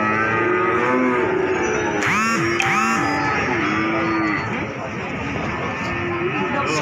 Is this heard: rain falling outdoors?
no